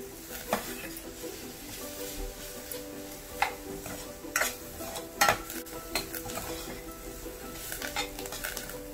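Stemmed fresh coriander sautéed in a pan for a Brahmani-style corn chutney bhaji, with a soft steady sizzle and several sharp spatula scrapes and clinks against the pan, no talking.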